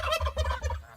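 Farm turkeys raised as Christmas birds gobble in a quick, close burst of throaty, warbling calls that lasts about a second.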